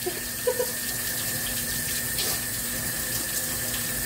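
Steady running water from a tap splashes continuously, with brief handling splashes near the start; no talking.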